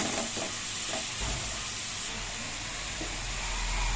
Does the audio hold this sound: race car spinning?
no